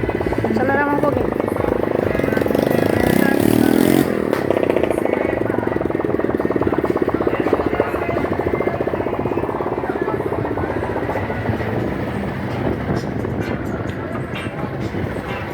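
A vehicle engine revs and accelerates at an outdoor event with a sound system, giving a loud, rough, throbbing drone that rises and falls, with people talking over it throughout.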